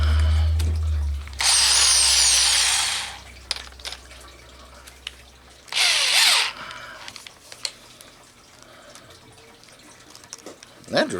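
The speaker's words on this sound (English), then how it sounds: "That drill bit was really dull. I had to push really hard to get it to start cutting." A power drill with a dull 1/2-inch bit runs in two loud bursts, straining and grinding through material, with a low motor hum at the start and clicks and handling noises between.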